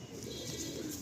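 Pigeons of an old breeding line, kept at a loft, coo softly and continuously at moderate level, with a steady low murmur throughout and no speech.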